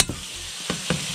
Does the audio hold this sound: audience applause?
no